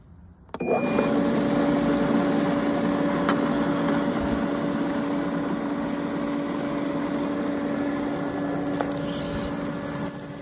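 A portable pool filter pump switches on and runs, a steady mid-pitched electric hum with a faint whir that holds evenly close by, with no talking.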